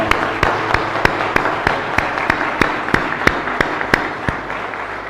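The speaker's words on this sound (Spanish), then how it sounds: "Fuerte aplauso para el Señor." Congregation clapping during a Catholic Mass for the Immaculate Conception, a loud, fairly regular run of sharp claps close by, continuous and without talk over it.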